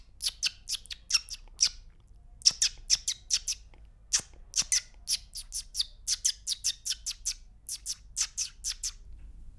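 Many short, bright bird chirps in quick, irregular bursts over about ten seconds, set against a low steady hum. The calls are fairly close and no one speaks over them; some of them may be sparrows.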